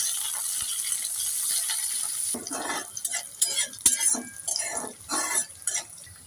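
Chopped onion dropped into hot oil already spiced with tempering seeds, starting with a steady hiss that turns into louder crackling sizzle and stirring clatter close up.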